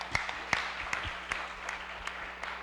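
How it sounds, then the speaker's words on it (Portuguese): Quiet applause from a church congregation at an Independent Baptist service, a steady patter of scattered claps with a few sharper ones standing out, fairly distant and soft under a low hum. "Uma salva de palmas aí, irmãos."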